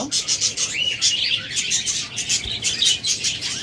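Budgerigars and lovebirds in a bird seller's cages chirp and tweet continuously, with high, bright calls overlapping in quick bursts, close and fairly loud, with some rustling of wings and feet.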